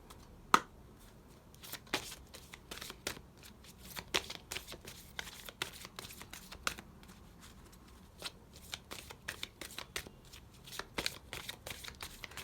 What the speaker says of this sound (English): it takes forever to shuffle and get those cards out.